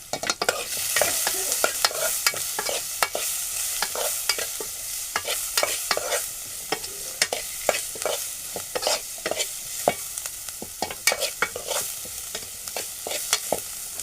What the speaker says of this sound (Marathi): कांदा आपण चांगला परतून घेऊ